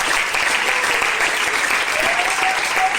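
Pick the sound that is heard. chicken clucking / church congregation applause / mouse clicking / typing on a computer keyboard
church congregation applause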